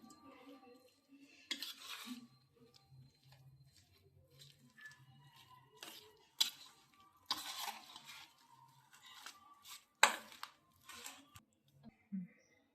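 Chicken 65 marinade being mixed by hand in a bowl, giving close, quiet, irregular wet squelches with scattered light clinks and taps against the dish.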